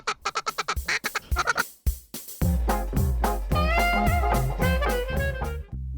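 Mallard ducks quacking during a hunt on fields by the Snake River in Idaho: a rapid, loud series of harsh quacks at first, then a dense, overlapping chorus of nasal calls, close and continuous.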